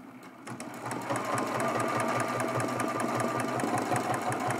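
A sewing machine quilting a turkey mug rug runs at a steady, rapid stitching rhythm, starting up and then humming continuously up close.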